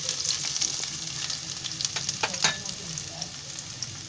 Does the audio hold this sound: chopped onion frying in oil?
yes